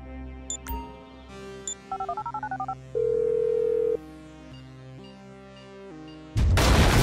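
Phone dialing in the video game Grand Theft Auto V: a run of rapid keypad beeps, then a long held tone and a series of electronic call tones, ending in a sudden loud burst of noise.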